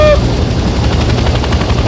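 A helicopter in the Vietnam-era shooter Hell Let Loose gives off a loud, close, rhythmic rotor thump and engine drone, with a brief rising tone at the start.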